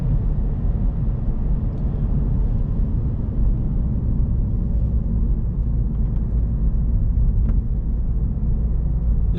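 Inside a BMW 318d E46 diesel driving on a road, a steady low engine and road rumble fills the cabin evenly, with faint ticks and rattles above it and no talking.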